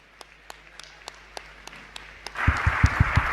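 A few scattered single claps, then an audience at a Jain religious discourse breaks into lively applause for the last second.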